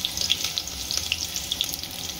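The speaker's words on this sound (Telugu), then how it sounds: "నూనె వస్తుంది, వేడైంది. ఇప్పుడు ఉల్లిగడ్డలు వేసుకుంది." Onions frying in hot oil for a yellow round cucumber curry: a steady close sizzle with scattered sharp crackles and pops, moderately loud and with no talk.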